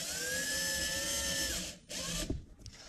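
A small power drill runs steadily at high speed on a farm, winding down briefly, restarting, then stopping with a few clicks; loud and close, with no talk.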